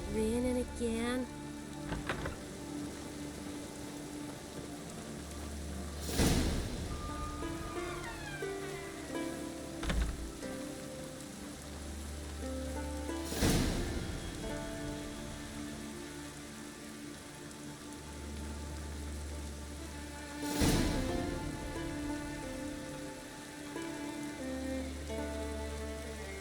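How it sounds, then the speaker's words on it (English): Steady rain in The Witcher 3: Wild Hunt patters throughout, with low droning tones and a few sharp broadband bursts breaking in at regular intervals. "Oh, raining again."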